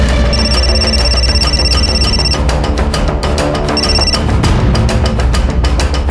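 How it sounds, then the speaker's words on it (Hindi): An outgoing phone call rings in a TV crime drama, heard as two bursts of repeated ringing laid over a loud, dense music score. "आप तो बस मौसा जी को फोन लगा रही हो ना"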